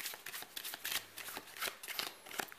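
Playing cards being shuffled during a card trick, a quick series of soft riffling flutters, close and quiet, with no talk over it.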